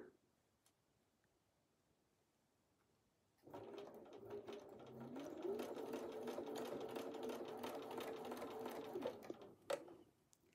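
A sewing machine stitches quilt pieces for a scrappy wedding ring quilt, starting after a quiet pause and running as a steady, fast mechanical whir for several seconds before stopping with a brief clack.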